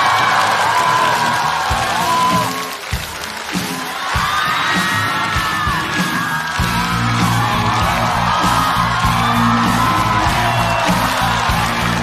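A stand-up comedy audience applauds and cheers to welcome a university art troupe onstage, a loud, continuous roar of clapping with whoops and yells that carries on throughout.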